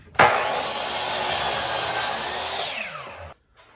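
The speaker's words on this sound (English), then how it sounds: "So we're gonna cut our studs at 91 and a half." A saw cuts through a wooden stud for a closet frame, one continuous loud rasping cut lasting about three seconds, close by and ending abruptly.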